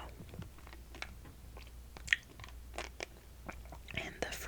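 Hard candy is crunched and clicked around in a mouth close to the microphone, with scattered sharp crackles and wet mouth sounds under soft whispered talking.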